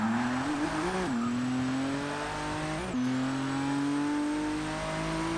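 A race car's engine drones steadily in Forza 6, its pitch climbing and shifting through gear changes, with tire squeal over the continuous loud roar.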